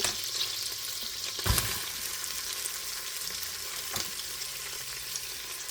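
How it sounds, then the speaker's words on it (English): Celery and onion sauté in melted butter in a pan, a steady close hiss with a couple of brief louder stirring scrapes, no voices. "I'm going to let this saute for just a minute."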